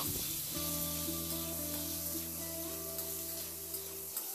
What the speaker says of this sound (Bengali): এবার আলুটাকে নাড়াচাড়া করে একটু ভেজে নেব।